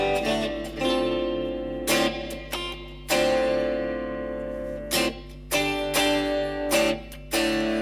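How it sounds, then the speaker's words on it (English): Electric guitar notes and chords ring out with a washy reverb tail from a Boss Cube FX multi-effects pedal, played in bursts separated by brief decaying pauses. "so you've got a reverb. If your amp doesn't have reverb"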